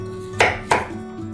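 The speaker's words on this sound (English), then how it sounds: "I just have to finish chopping them into nice little bite-sized chunks." A knife chops peeled sweet potatoes into bite-sized chunks on a board, two sharp, close cuts about a third of a second apart, with no voice.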